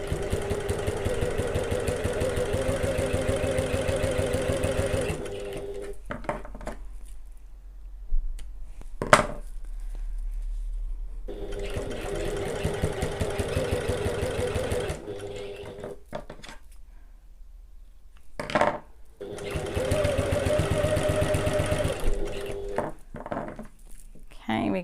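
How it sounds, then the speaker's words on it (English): Sewing machine stitching through several layers of a bag at a quarter inch: three loud, even motor runs of about five seconds each, separated by quiet pauses with brief clicks and handling noises. "I'm going to sew it at 1/4 of an inch or 6mm"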